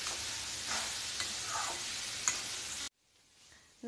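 Grated coconut fries with sugar in a pan, giving a steady close sizzle with scraping stirs, then it cuts off abruptly into near silence.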